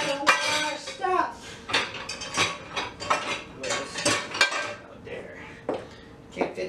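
Dishes, pots and pans are washed and stacked by hand, with close, irregular clinks and clatters of crockery and cutlery rising and falling in quick bursts.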